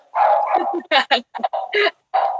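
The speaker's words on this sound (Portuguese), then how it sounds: "Aí o meu cachorro gritando." A pet dog barks in a rapid series of loud, close yelping bursts with short gaps between them, sounding high and strained.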